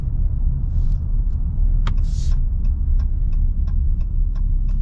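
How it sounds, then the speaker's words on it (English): Cummins diesel engine of a 2023 Ram 2500 Laramie crew cab truck, a steady deep low rumble from inside the cab while moving, with faint ticking clicks running above it. "Love the sound of the Cummins though."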